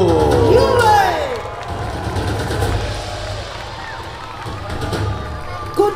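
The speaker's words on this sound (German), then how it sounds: "Jubel!" Spectators at a knights' tournament show at Schloss Thurn erupting in a burst of cheering and shouting, loud at first and then settling into a lower murmur with scattered noise.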